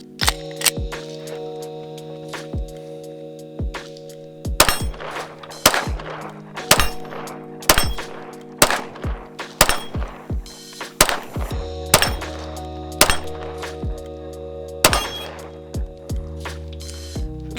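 A Polymer 80 DIY Glock-style pistol fires about ten shots at a target at a slow, evenly spaced pace, each report a sharp loud crack over a steady background hum.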